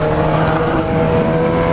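Honda CB1000 motorcycle engine revving up close, a loud, steady tonal drone with strong harmonic hum that holds for under two seconds without pauses.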